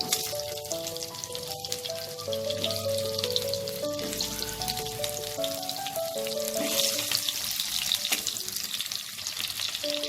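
Potato pieces fry in hot oil with bay leaf and white cumin, a steady crackling sizzle with occasional stirring, while light background music plays underneath.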